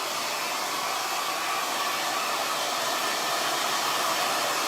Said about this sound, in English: the blow dryer is not touching my hair